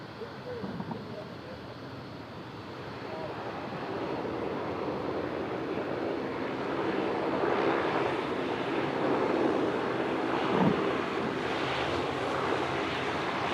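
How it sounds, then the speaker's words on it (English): A Qantas Link plane taxis past at Sydney Airport, its broad engine roar rising gradually and holding steady close by, with a constant rumbling hiss and no talk on top. "one of the noisy Qantas Link planes taxiing past"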